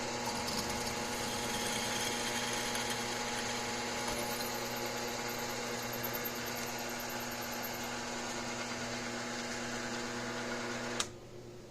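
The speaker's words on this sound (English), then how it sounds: "Go ahead and slowly drill through." A drill runs slowly through a steel shotgun barrel, making a steady, low-level motor hum with a faint grinding edge that continues almost unchanged for about eleven seconds before stopping with a small click.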